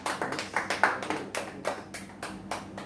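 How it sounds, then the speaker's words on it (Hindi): A church congregation claps to thank God, a steady run of sharp hand claps at moderate distance, fairly quiet and slightly irregular, with no voices over it. "जोरदार तालियों से खुदा का शुक्र करें।"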